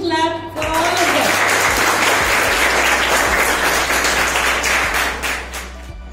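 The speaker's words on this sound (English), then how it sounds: "a huge clap for all of them" Sustained applause from a school crowd at a science quiz competition, many hands clapping steadily for several seconds before tapering slightly at the end.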